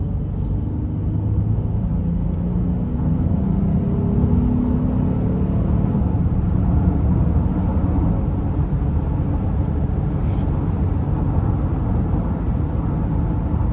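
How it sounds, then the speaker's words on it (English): A 2017 Honda Ridgeline RTL pickup accelerating under throttle, heard from inside the cab as a loud, steady engine drone with rising rumble and road noise and no speech. "Give some throttle here."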